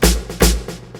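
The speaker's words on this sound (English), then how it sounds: "It's another snare, but just acoustic" Acoustic snare drum sample in FL Studio, tight and dry: two loud cracks followed by two softer hits in a steady rhythm, close and alone with a short decay.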